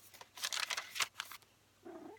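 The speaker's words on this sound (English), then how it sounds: "My kitty's trying to jump up in my lap right now." A pet cat purrs close by in a quiet room, a soft rhythmic rumble in several bursts, then a brief pause before the purr picks up again.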